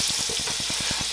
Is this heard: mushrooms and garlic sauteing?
yes